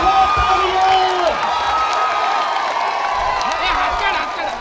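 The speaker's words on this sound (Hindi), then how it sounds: "बजाते रहो तालियां।" A crowd at a school foundation stone laying ceremony claps and cheers loudly, with shouts and whoops rising over sustained applause throughout.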